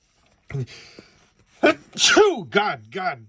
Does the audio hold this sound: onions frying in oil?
no